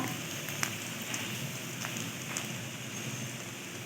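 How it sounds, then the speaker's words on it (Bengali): Chopped onion lightly frying in a pan gives a soft, even sizzle, close and steady, with a few faint pops scattered through it. "এবার এটাকে আমি হালকা করে ভেজে নেব"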